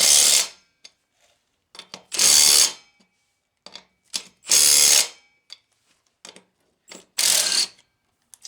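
A ratchet wrench turning a lug nut on a four-wheeler wheel, loud close bursts of rapid clicking repeated four times with short pauses, separated by faint metallic ticks and handling noises, no talk.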